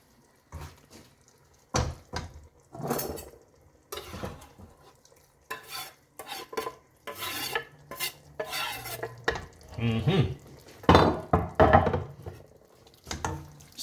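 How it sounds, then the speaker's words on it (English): Green beans in fresh tomato and olive oil sauce stirred in a pot, with repeated close scraping and knocking strokes of a utensil against the pot and a light simmering sizzle between them. "Stir."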